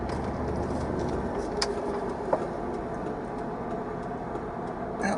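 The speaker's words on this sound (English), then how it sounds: "I don't normally have a traffic jam here" Road traffic in a jam: a steady, dense rumble of car engines with a couple of brief clunks, continuous and fairly loud, without speech.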